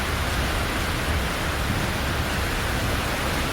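Heavy monsoon rain pouring over flooded Jaisalmer, Rajasthan, a dense, unbroken roar of rainfall filling the whole stretch at steady loudness with no voices.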